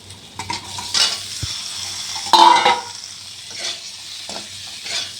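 Pointed gourds dropped into hot oil alongside spiced potatoes and stirred, a close sizzle with spatula scrapes and a metallic pan clink, no talking.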